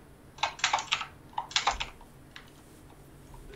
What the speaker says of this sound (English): a lot of typing there